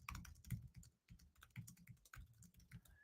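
Quiet, close typing on a freshly plugged-in computer keyboard, irregular bursts of key clicks with brief pauses, no voices.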